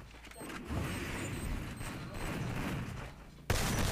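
Grenade explosions and gunfire go off in the battle game Free Fire. Dense rumbling blasts and crackling bursts run continuously, ending in a sharp, loud bang near the close.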